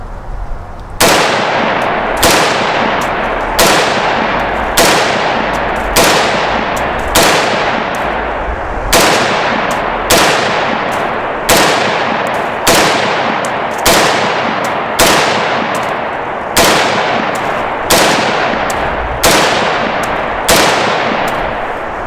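A PSP patrol rifle, an AR-type rifle that has sat unused for a decade, fired in a steady run of about sixteen loud close single shots, each with a short ringing decay.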